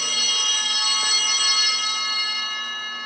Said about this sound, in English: That ringing of the bells